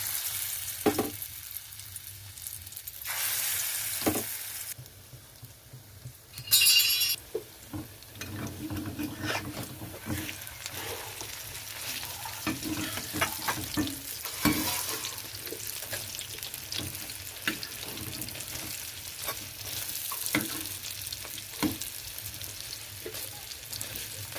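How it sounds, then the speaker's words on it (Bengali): Steady sizzling and crackling of potato fritters frying in hot oil, with a few light clinks and a brief louder burst partway through. "তেলটা গরম হয়ে গেছে তো ভাজার জন্য ছেড়ে দিচ্ছি"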